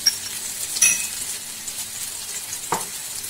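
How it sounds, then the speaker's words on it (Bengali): Chili, cumin and coriander powder hitting hot oil in a pan for a Bengali katla fish curry, a steady close sizzle with a couple of sharp stirring clinks, no voices. "লঙ্কার পাউডারটা আমি দিয়ে দিচ্ছি, জিরা পাউডার দিচ্ছি, আর আমি এখানে ধনের পাউডারটাও দিয়ে দিচ্ছিলাম।"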